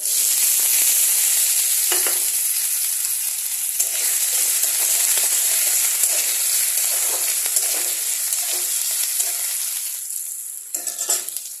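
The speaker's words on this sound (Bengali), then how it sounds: "এখন এই ছোট ছোট করে কেটেছি আলুগুলো, একদম ছোট ছোট করে এই আলুগুলোকে দিয়ে দেবো।" Small-cut potatoes hit hot oil tempered with cumin, bay leaf and dried chilli, sizzling loudly and continuously with occasional stirring scrapes and a brief burst of crackle near the end.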